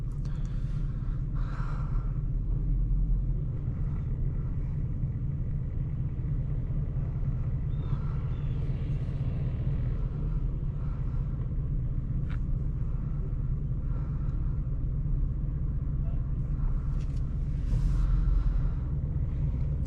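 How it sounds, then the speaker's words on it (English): A 2005 Chrysler 300C with its 5.7L Hemi V8 pulls steadily under throttle, a deep continuous rumble heard from inside the cabin, loud and unbroken with no talking. "good sounding engine."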